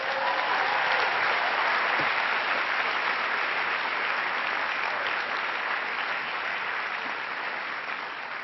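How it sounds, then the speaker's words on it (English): An audience at a United Nations interfaith observance gives children a round of applause, even and continuous clapping heard at moderate distance with no talking. "I think they deserve another round of applause."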